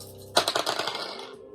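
Dice rolling across a hard surface, a sharp initial clatter followed by a quick run of diminishing rattling taps that fade out.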